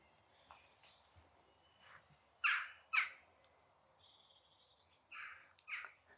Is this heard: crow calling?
yes